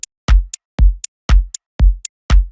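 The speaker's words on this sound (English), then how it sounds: "So you've just created a drum groove that sounds like this." Simple drum groove loop: a booming kick alternating with short crisp hi-hat ticks in a steady, even rhythm, about five kicks in a brief loud pass with no voices.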